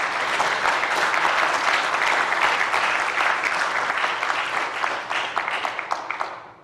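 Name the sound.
audience applause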